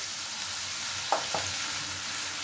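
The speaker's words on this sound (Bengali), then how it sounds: "পেঁয়াজটা ভাজা হোক, মশলাটা দিয়ে দিয়েছি" Onions frying with a spice paste in a pan for carrot chicken give a constant hissing sizzle, broken by two quick spoon knocks or stirs midway.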